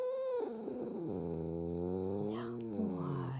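An agitated house cat lets out one long, drawn-out growl close by. The tone slides downward and settles into a low, rough rumble, with no talking over it.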